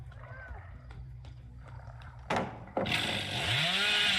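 Hillbilly's chainsaw in a video game bursts into a loud, short rev, then roars into a sustained, harsh whine up close, after quieter game sounds and faint talk.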